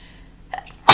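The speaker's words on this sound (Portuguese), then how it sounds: "fazia um tempinho já que eu tava querendo espirrar, tava difícil aqui" A teacher sneezes during an online math lesson, with a short intake of breath and small vocal sounds building to one loud, sharp, close sneeze at the very end.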